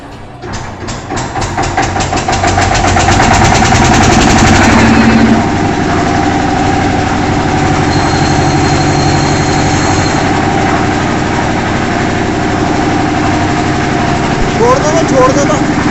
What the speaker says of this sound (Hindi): ये है 4DI का वाटर कूल्ड इंजन, जो 15 HP का है।